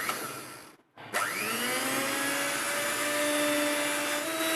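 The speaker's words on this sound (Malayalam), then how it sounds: "ഇതൊരു ഇലക്ട്രിക് ബീറ്റർ വെച്ച് നന്നായിട്ട് ബീറ്റ് ചെയ്തെടുക്കണം." Electric beater whipping chocolate cake batter, starting at low speed: a motor whine cuts out briefly, then restarts and holds a steady hum with sliding tones, close and fairly loud, no speech.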